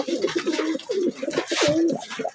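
Male racing pigeon cooing up close, a series of low, throaty rolling coos in short bursts across a couple of seconds.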